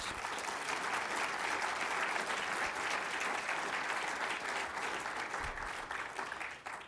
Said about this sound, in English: would you please give those people a big round of applause?